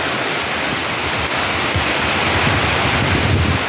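Strong typhoon wind and rain roar without a break, a loud dense rush with low gusty buffeting against the microphone.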